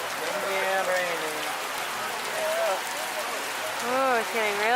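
Steady rain pours down on an open safari vehicle at Kilimanjaro Safaris in Disney's Animal Kingdom, Florida, amid wind, a constant close hiss throughout as voices talk over it.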